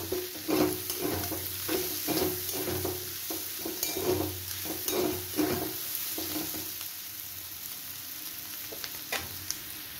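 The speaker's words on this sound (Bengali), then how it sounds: "রসুনটা দিয়ে 1-2 মিনিট ভাজার পর আমি আদাটা দিয়ে দেবো।" Garlic sizzles in a hot pan with onion and potatoes, a run of quick rhythmic spatula scrapes for the first half, then the stirring stops and a steadier, quieter frying hiss continues.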